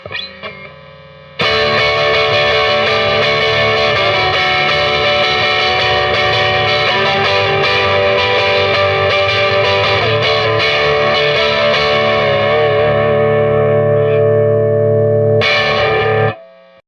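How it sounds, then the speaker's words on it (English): An electric guitar on its neck pickup alone, a Mustang pickup, plays a warm, thick, sustained chord with a round tone, ringing loudly and evenly before cutting off and restarting briefly. "Neck pickup by itself now."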